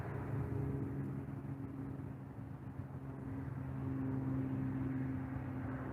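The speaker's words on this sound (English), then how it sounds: "I was filming FedEx and then Lufthansa arrives" Lufthansa airliner arriving at an airport, a steady broad jet engine roar with a low droning hum, moderately distant and continuous throughout.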